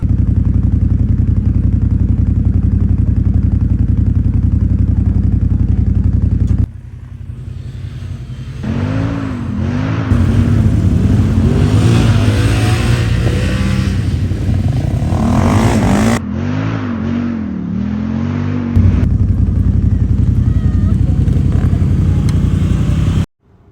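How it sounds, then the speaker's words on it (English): Two quads, a Can-Am 650 4x4 and a Kawasaki KFX, drag race on sand dunes with loud, close engine roars. The engines rev up, shift through rising gear pulls and hold sustained high-rpm drones throughout. "here we have a couple of quads lining up for a drag race on the sand"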